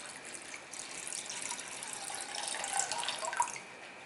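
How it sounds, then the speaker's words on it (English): Pure water is poured into the pot of a copper still, a steady splashing, hissing stream that builds slightly in loudness over a few seconds, alone and close. "First, pour pure water into the bottom of the still's pot."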